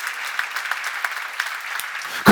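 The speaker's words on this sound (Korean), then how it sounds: "박수 하세요." A church seminar congregation gives brief, soft applause, a hiss of scattered claps at a steady level. A loud thump comes right at the end.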